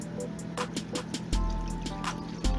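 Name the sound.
pouring a cup of water into mayonnaise in a mixing bowl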